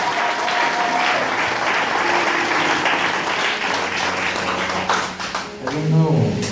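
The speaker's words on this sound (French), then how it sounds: "Applaudissez." An audience at a prophecy church service applauds loudly and continuously, dense clapping filling the space, with voices talking over it and a brief rise of speech near the end.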